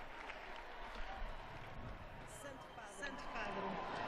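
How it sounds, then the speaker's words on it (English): University students at a World Youth Day gathering in Lisbon applaud the Pope, a faint, distant wash of clapping and crowd noise holding steady throughout. "Holy Father acknowledging the applause"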